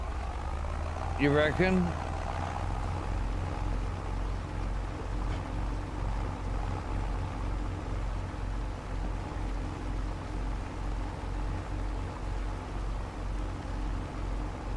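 Deep, throaty diesel engine of a tractor without a cab idling steadily and close by for the whole stretch, a low rumbling drone, with a brief spoken remark over it early on.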